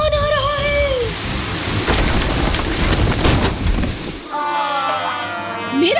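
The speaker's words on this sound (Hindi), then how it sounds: "तूफान आ रहा है।" An animated cartoon thunderstorm with steady heavy rain and rumbling thunder, a loud wash of noise throughout, with cartoonish whistling tones at the start and end.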